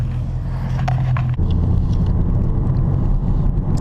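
A car drives at night with a 35% tinted windshield and headlights on, giving a steady, close low rumble of engine and road noise that runs throughout with no talking.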